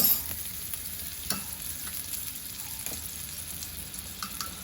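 Butter frying in a pan gives a soft, steady sizzle with a few faint clicks and scrapes. It stays low and continuous.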